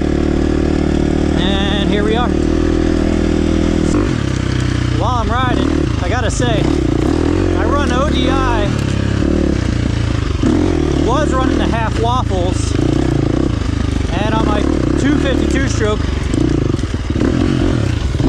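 A 2023 KTM 350 XC-F four-stroke dirt bike being ridden, loud and close, its engine idling then revving in repeated rising bursts as it pulls away, with a voice talking over the engine at times.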